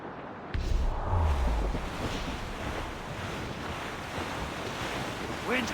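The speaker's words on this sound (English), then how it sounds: "Wind's getting vicious" Strong wind and crashing waves at sea in Assassin's Creed Rogue, a steady loud broadband roar of surf and gusts with a heavy low rumble early on, continuous throughout with no voices.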